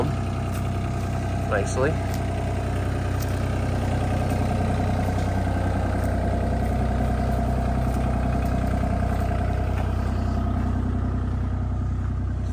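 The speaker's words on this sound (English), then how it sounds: "Been using the excavator bucket" An excavator engine idles in a steady, continuous low rumble at a steep-bank landscaping site, with a person speaking briefly over it.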